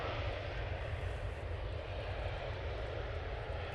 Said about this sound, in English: Ryanair 73 going off to Belfast now